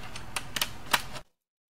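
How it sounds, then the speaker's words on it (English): Screws being worked loose from a wooden watercolor board, giving a few sharp clicks and taps against a low background hum, then abrupt silence. "just keep going until you have all the screws out"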